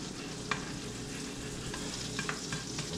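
Fish roe frying in a cast iron skillet gives a steady, close sizzle throughout, broken by a few brief sharp crackles and pops.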